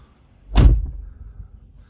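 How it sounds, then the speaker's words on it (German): A single solid thud as the door of a Dacia Spring electric car swings shut, close and sharp, followed by a brief fading rattle and then quiet. "Ich kann auch die Tür offen zumachen."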